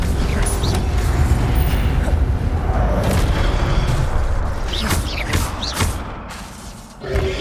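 Spell effects from Hogwarts Legacy, Levioso and Incendio, build as a loud, dense layer of magical whooshes, booms and creaking mechanisms, with sharp bright bursts toward the end and sustained low rumble throughout.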